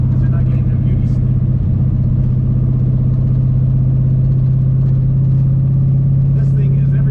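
Daytona GT car engine while driving, a loud, constant low rumbling drone that stays heavy and unbroken throughout, heard from close by inside the car.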